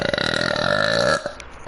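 A long, sustained burp from a woman, loud and droning with strong tonal harmonics, rolling for about a second before cutting off, followed by a faint short voice sound.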